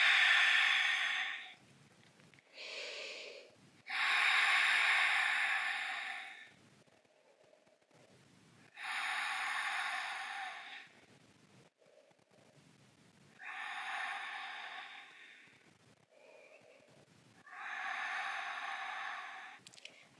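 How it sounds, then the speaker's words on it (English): Slow, deep breaths during a yoga exercise, each long, airy inhale or exhale lasting a few seconds and separated by quiet pauses, close to the microphone with no talking. "Let's take 5 deep breaths."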